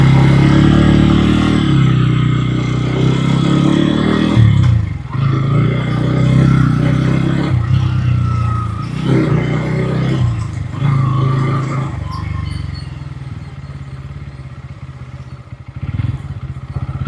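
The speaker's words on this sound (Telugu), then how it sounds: "ఇంజన్ అయితే మాత్రం చాలా రిఫైన్డ్ ఉంది" A Bajaj Pulsar N160 motorcycle engine rides in first gear, a loud close steady drone that repeatedly rises and dips with throttle changes over about seventeen seconds, with no talking.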